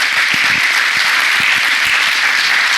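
Sustained applause from a church congregation fills the space, a dense wash of many hands clapping steadily and loudly with no voices over it.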